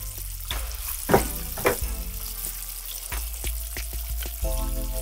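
Chubs, snappers and grunts deep-fry hard in hot oil, giving a steady close sizzle with a few sharp bursts and clatters as the pieces shift, and no voices.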